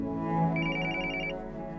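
A telephone rings in a rapid electronic trill, clear and close, over a sustained musical tone with no talking.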